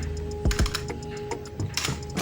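Computer keyboard keys are tapped in a short, irregular run of light clicks at close range, with a faint steady hum underneath.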